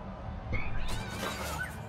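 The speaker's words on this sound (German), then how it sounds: "Eine Katze?" A cat meows in the video game South Park 2, a short plaintive call rising over faint background game sounds.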